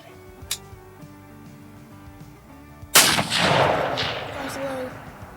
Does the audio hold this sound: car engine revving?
no